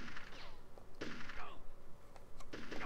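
Gunfire from the Army Men: Sarge's Heroes video game, several sharp bursts and rattling shots spread across the moment, mixed with other game effects and some voice-like sounds.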